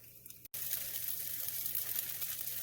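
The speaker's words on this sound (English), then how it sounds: "Y'all hear it sizzling because I put it on that hot eye that them eggs was on" Leftover cooked rice sizzles in a hot pan on a stove eye still hot from frying eggs, a steady close broadband hiss that starts after a brief pause and holds loud without talk.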